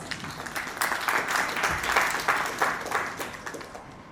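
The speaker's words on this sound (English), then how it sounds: "Can we please welcome him on stage with a huge round of applause?" An audience applauds to welcome the managing director of Arvi Systems and Controls, Bangalore, onto the stage at an evening event; a steady, dense round of clapping runs throughout at moderate volume.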